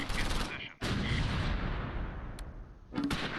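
Mortar rounds loaded with smoke grenades fire in the WWII strategy game Close Combat V, set at Le Varimesmil and Chateau de Riviere, June 1944. Heavy booming blasts come at the start, near one second and again near three seconds, each followed by rumbling decay.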